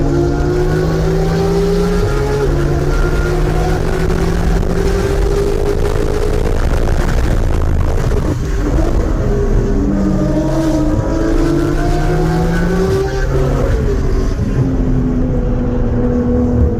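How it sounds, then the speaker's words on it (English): Porsche GT race car engine at wide open throttle on a track, loud and close, climbing through the revs and dropping with each gear change, sustained without any voices. "and now we're Porsche racing"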